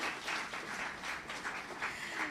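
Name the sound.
audience applause for the launch planning team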